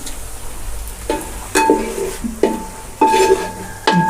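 Ground spices like coriander, chili powder and cumin frying in a pan, with a soft sizzle under several sharp metal spoon scrapes and clanks at irregular intervals, close by and without talk.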